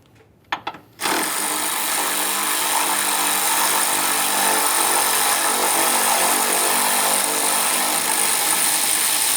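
A power tool runs steadily to back out a 13mm mounting bolt holding an AC condenser and receiver drier assembly to the body of a 2015-2020 Ford F-150 3.5L, after a few short clicks, a loud continuous whine alone.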